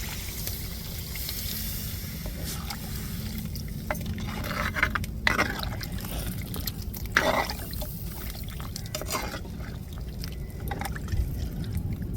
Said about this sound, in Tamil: இப்போ புளி தண்ணியை சேர்த்துக்கிடுவோம்